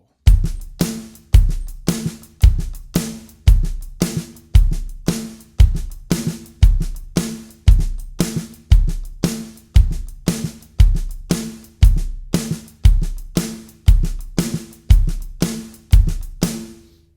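Drum beat for a song, a steady groove of strong kick and snare hits with softer ghost notes between them, repeating evenly and close-miked for about seventeen seconds, no voices.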